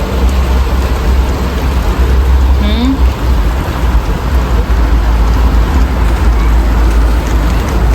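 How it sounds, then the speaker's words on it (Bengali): Steady rain falls outdoors in Canada, a dense, loud, continuous hiss with a low rumble beneath, holding evenly throughout without breaks. "আজকে কানাডার বৃষ্টি দেখবেন, বাংলাদেশের মতো বৃষ্টি হইতেছে, দেখেন কি সুন্দর বৃষ্টি।"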